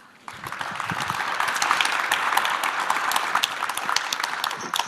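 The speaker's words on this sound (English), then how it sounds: "A very warm applause for both of them." Warm applause breaks out in the main room of a 5G conference in Luxembourg, a dense, steady clapping from a large audience that starts abruptly and carries on evenly to the end.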